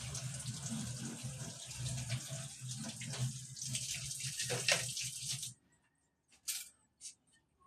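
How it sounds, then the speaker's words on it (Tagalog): Spoon stirring a soursop ice cream mixture with condensed milk, giving continuous wet sloshing and clinking for about five seconds, then stopping, followed by a few faint scattered taps. "Yun, nakikita nyo, hinahalo."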